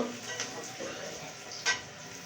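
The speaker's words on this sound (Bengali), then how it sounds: "এই যে এখন আমি শুকনো মরিচ দিয়ে দেবো এখানে এটাকে আমি ভেজে নেব" Dried red chilies frying over low heat in a pan, a soft steady sizzle with a couple of faint clicks of a utensil, quiet and close.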